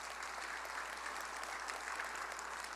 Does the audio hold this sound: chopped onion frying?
no